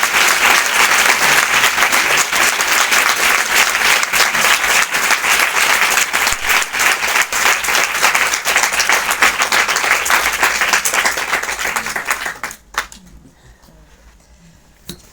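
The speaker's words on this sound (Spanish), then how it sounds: "Un aplauso por lo menos" Sustained audience applause fills a hall at a mental health day event in Alicante, dense and loud for about twelve seconds before cutting off abruptly, leaving a quiet room with a couple of faint stray sounds.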